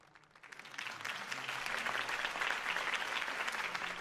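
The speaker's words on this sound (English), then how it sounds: "could have heard that applause" Applause from a large crowd in the video game Batman: The Telltale Series swells up quickly and holds steady, a dense wash of clapping heard from a distance.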